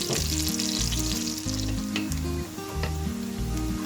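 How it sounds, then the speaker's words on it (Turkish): Beef tail fat renders in a pan and is stirred now and then, giving a bright, continuous sizzle beneath loud, rhythmic background music. "Ara ara bu şekilde karıştırarak iç yağımızın tamamıyla erimesini ve kıkırdak hale gelmesini sağlayalım."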